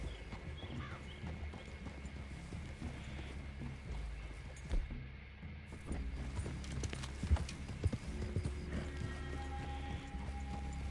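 Video game horses' hooves clip-clop at a steady walking pace, moderately close, with a brief snort or whinny and some faint outdoor ambience, in Red Dead Redemption 2.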